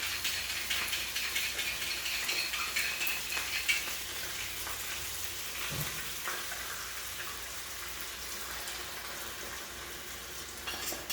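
Salmon cooking in a lemon sauce in a pan, a steady soft sizzle and bubbling frying sound throughout, fairly faint and even with no talking.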